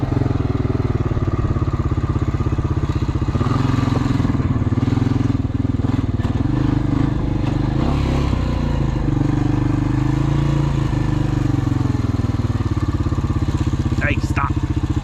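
An old Honda 350 four-wheeler engine drones steadily while riding through mud, a loud, close, constant motor hum with clattering, and speech faintly under it.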